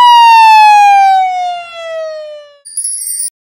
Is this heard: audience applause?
no